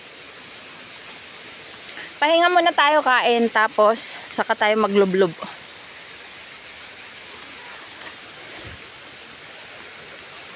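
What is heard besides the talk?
waterfall, falling water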